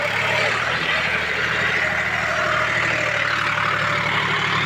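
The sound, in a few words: John Deere 5105 tractor engine running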